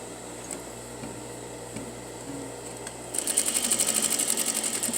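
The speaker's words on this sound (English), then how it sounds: "now I can turn and put the presser foot back down and continue sewing again" A sewing machine edge stitches a patch pocket, starting up partway through with a rapid, even mechanical chatter close by after quiet handling noises.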